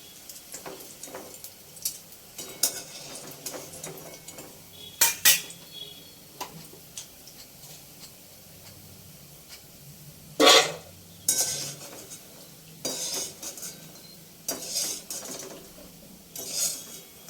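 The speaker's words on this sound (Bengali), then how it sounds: "মদন কটকটিগুলো ভাজা হয়ে গেছে, এবারে তুলে নেবো" Madan katkati snacks are lifted out of hot frying oil with a metal utensil on a gas stove: sparse, sharp metallic clinks and scrapes against the pan over a faint background hiss, with no voices.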